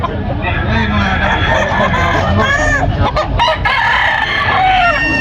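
Roosters crow and cluck amid a busy Filipino fowl market, with steady crowd babble and several overlapping calls throughout.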